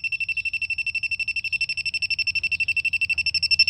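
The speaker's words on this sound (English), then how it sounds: "As soon as I put the leak detector right there, it goes crazy." A WJL-6000 halogen gas leak detector alarms at a car A/C leak, emitting a rapid, steady train of high-pitched electronic beeps, loud and close, about ten per second, with nothing else heard.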